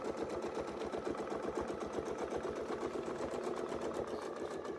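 A sewing machine stitches a quilt in one continuous run, its needle beating a fast, even mechanical chatter with a steady motor hum underneath, fairly quiet and with no talk.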